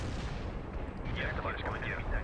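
An artillery barrage in World in Conflict, heard as a dense, continuous rumbling roar of distant blasts with a voice talking over it.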